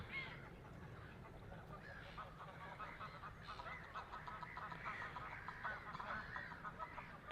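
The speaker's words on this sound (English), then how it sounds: "Definitely got some geese there." Geese honk continuously from a distance at an outdoor nature reserve, an overlapping chorus of calls over a steady background wash, with no talking.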